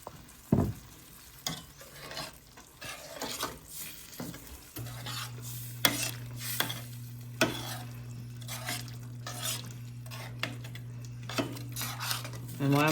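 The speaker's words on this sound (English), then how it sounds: "I'm scraping up the bottom of the pot there" Metal utensil scraping and stirring across the bottom of a pot of simmering wine and beef bouillon, repeated sharp scrapes and clinks over a steady low bubbling hum, close and fairly loud.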